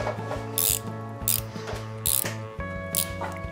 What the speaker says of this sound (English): We'll put that on our ratchet and then go to tighten it.